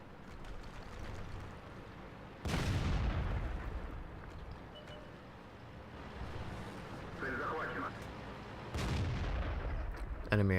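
Booming tank cannon shots and artillery fire in a World of Tanks battle, with two heavy blasts several seconds apart over a constant rumbling battlefield ambience.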